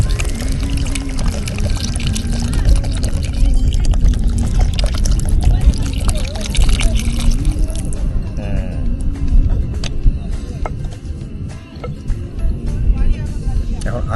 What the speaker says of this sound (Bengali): এখন আলুটা যাতে সিদ্ধ হয় সেই জন্য এখন জল দিচ্ছি সুন্দরভাবে একদম ভরে